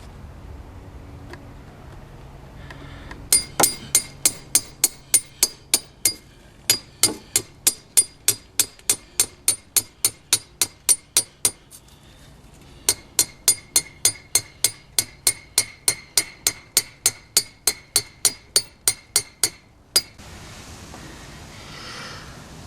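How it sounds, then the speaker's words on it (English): A sharpened steel rod is hammered through the dense frond shield mass of a huge staghorn fern, with two long runs of sharp, evenly spaced metallic strikes, loud and close, separated by a short pause. "Now I insert a sharpened steel rod through the frond shield mass to make an opening for the new steel cable"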